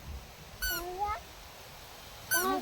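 Two clear cat meows, one rising then falling around the middle and another near the end, close by, with quiet background between.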